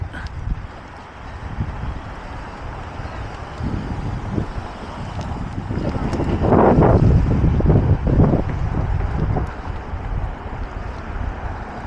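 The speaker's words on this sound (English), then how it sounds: "we got a little bit of a breeze out here with the way that flag's blowing" Outdoor wind buffets the microphone in loud, rumbling gusts that swell and fade unevenly, strongest in the middle, with no voices.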